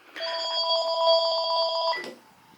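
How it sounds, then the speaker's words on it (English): A telephone rings once in a short, bright electronic trill of rapidly pulsing tones lasting about two seconds, then cuts off, heard clearly in a quiet room. "oh, there goes my phone."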